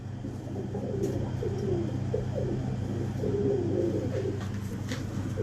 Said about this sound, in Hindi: जबकि ये सियालकोटी कबूतर का बच्चा है।